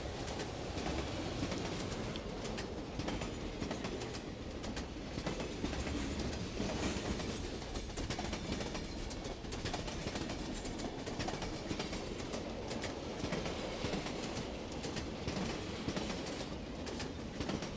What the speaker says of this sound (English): the train backs out of Wimborne and heads towards Bournemouth.